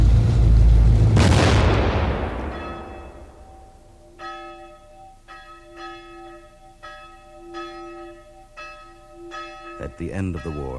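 A heavy boom opens and slowly decays, then a single church bell in a European tower strikes in a steady rhythm, about eight ringing tolls, each sustaining into the next, with a clattering sound near the end.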